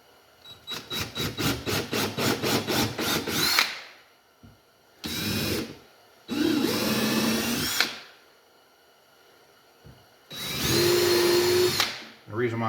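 A power drill drives screws into wooden parts of a homemade Langstroth bee hive, first in a rapid pulsing run, then in several separate longer bursts, close and loud.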